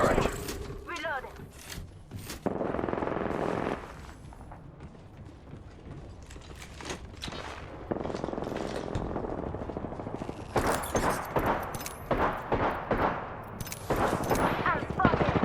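Enemy gunfire in the video game Apex Legends, played as Gibraltar, comes as loud automatic bursts and rattling volleys that alternate with mechanical clatter and quieter stretches throughout.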